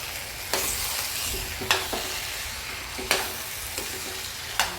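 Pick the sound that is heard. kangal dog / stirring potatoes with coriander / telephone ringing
stirring potatoes with coriander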